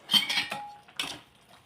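Chole being stirred in a pot after lemon juice and sugar went in, heard as a few close, bright clinks and scrapes of a spoon against the pot in two short bursts, with no talking.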